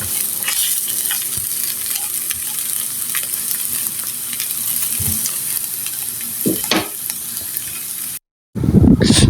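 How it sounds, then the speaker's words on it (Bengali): Pointed gourd and potato pieces sizzle and fry in a pan with a steady crackle, and a few louder stirring clatters come near the end. After a short gap a louder burst follows. "এরকম লাল লাল করে ভেজে নেবেন"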